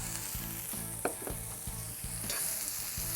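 Onions fry in a pan for a wild turkey dish with strawberries, a soft steady sizzle with a few brief stirring scrapes and knocks, close and fairly quiet with no talking.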